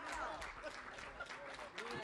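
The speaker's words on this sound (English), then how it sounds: "Give her a round of applause." Quiet, distant audience applause at an outdoor press conference for a housing opening, a faint steady patter with people talking over it.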